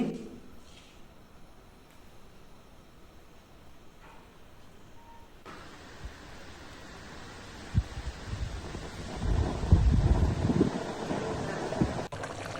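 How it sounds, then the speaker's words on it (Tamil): Wind gusts against the microphone, rumbling low and growing louder toward the middle, with a steady background hiss and no talking, outdoors during rain while chicken biryani cooks. "இது செய்யும் போதே மழையும் வந்துருச்சு தூரிட்டு இருந்தது காற்றும் அடிக்குது"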